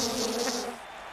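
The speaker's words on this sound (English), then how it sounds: "They use the buzzing noise." Insect-like buzzing sound effect in the wrestling video game WWE 2K19, a close, steady electric buzz lasting under a second before fading to a quieter hum.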